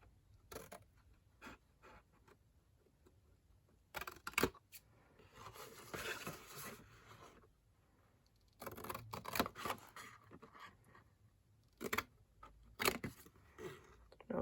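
Quiet, intermittent snips and clicks of scissors cutting and notching patterned paper for a box, several short crisp bursts separated by near-silent gaps.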